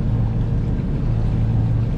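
Sailboat's inboard engine running while under way in about 12 to 13 knots of wind, a loud, steady low droning rumble with a constant hum, no voices.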